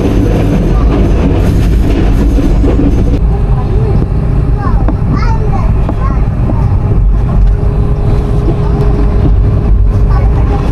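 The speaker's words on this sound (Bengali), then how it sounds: "আমাদের ট্রেন রয়েছে হরসপুর স্টেশনের খুব কাছাকাছি" A passenger train on the Chittagong to Sylhet route in Bangladesh gives a loud, continuous rumble and rattle, heard from inside the carriage near Harashpur station, with voices mixed in.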